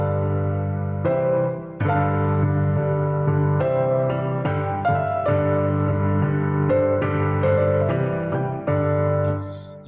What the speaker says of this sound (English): This is the leitmotif for the Rhine Maidens.